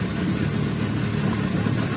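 An old motor tricycle's engine hums steadily up close at a low, even pace on a rural road toward a fish pond after rain, with no voices over it.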